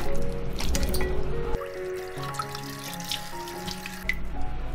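Tap water runs steadily into a sink while soup ingredients for duck soup are rinsed and rubbed by hand, with splashing and dripping changes as hands move through the stream.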